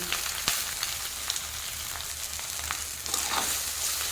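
Chowmein and capsicum stir-fry in a pan with a steady, close sizzle, broken by occasional sharp scrapes and clicks of a stirring utensil, with no voices.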